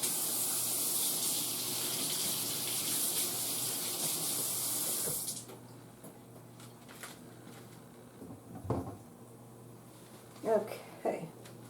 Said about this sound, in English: so let me wash my hands right quick.